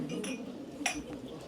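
Glasses clink at a toast during a Ghana High Commission reception, a few bright chinks and taps over the low murmur of a crowded room.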